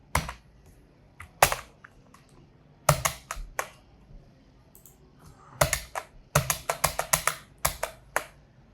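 Bursts of rapid keystrokes on a computer keyboard, clustered clicks separated by short pauses, close and crisp with no voices.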